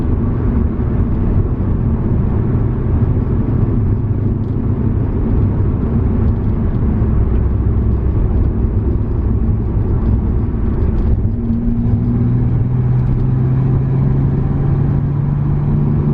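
A Datsun 280Z engine hums and rumbles steadily from inside the cabin through curves, pitch shifting as it accelerates and eases off, loud and continuous.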